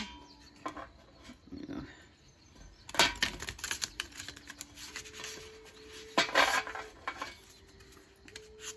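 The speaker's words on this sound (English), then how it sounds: "I think I'm going to go ahead and show you how well they shuffle." Crisp riffling and flicking of stiff cardstock oracle cards being shuffled, in several quick bursts with pauses between, close and fairly loud, a faint voice briefly underneath.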